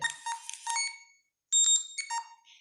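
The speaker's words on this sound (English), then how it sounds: "This is 2 beeps but higher" Two high-pitched electronic beep patterns from a talking consumer product, each a bright tonal chirp sequence separated by a short silence, close and clear with no talk.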